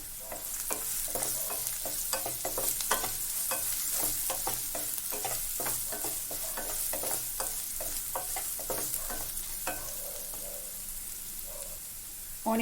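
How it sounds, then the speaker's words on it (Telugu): Onions sprinkled with salt fry in oil for tomato coriander rice, a constant faint sizzle under rapid, rhythmic scraping stirs that slow near the end. "ఆనియన్ వేసాక ఆనియన్ కొద్దిగా కలర్ చేంజ్ అయ్యేంత వరకు ఫ్రై చేసుకుందాం."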